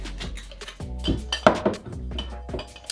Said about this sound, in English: get a highball glass and fill it with ice